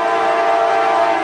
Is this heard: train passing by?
yes